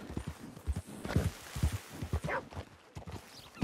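Horse hooves clip-clop at a steady walk on a road in Red Dead Online, close and distinct, with a light rhythmic jingle of tack between the steps and no voices.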